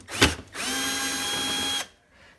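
A power drill set to low torque backs a screw out of the inner liner of a Frigidaire refrigerator: a brief whir, a pause, then a steady whine lasting just over a second before it stops.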